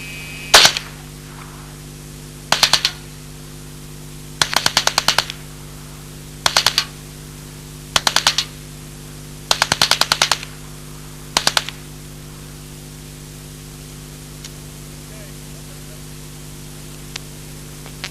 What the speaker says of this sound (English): I'm gonna try to hit this water heater at 20 yards, shooting the machine gun in a fully automatic mode with one hand.